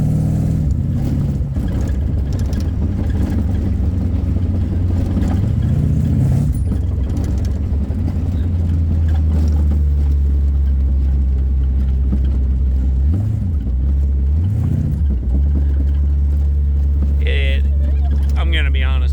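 Close and loud, the V8 swapped into a 1965 Triumph Spitfire rumbles at a deep idle and then revs hard in several swelling pulls, with someone talking over part of it.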